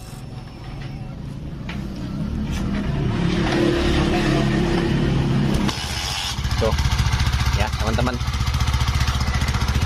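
A motorcycle or small engine restarted after exhaust repair, running with a steady low rumble that settles into a smoother idle, close by, while someone speaks over it.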